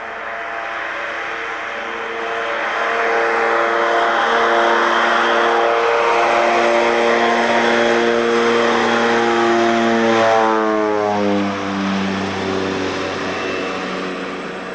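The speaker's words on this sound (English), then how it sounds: "And then we take off again in the plane" A propeller plane takes off, its engine drone loud and close throughout. The pitch climbs and shifts as the aircraft gathers speed and pulls away, with no voices.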